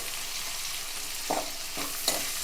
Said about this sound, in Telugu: ఇవి బాగా వేగనిద్దాం ఇవి వేగిన తర్వాత దోరగా వేగిన తర్వాత మళ్ళీ మీకు చూపిస్తాను